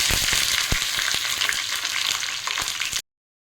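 Curry leaves and mustard seeds crackle and sizzle loudly in hot oil during a South Indian tempering for kootu, a steady frying hiss with sharp pops scattered throughout.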